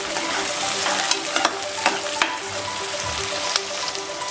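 Mutton curry with spring onions being stirred in a pan: a constant sizzle with repeated scraping strokes and light clinks of the spoon against the pan.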